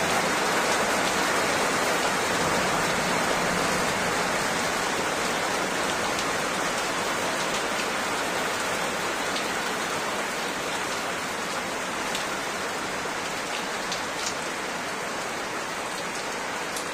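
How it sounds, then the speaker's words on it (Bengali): Heavy evening rain during a nor'wester in Barasat, North 24 Parganas, roars in a constant wash of drops on surfaces, loud and uniform from start to end, with no speech. "একটু সন্ধ্যাবেলা বৃষ্টি হচ্ছে"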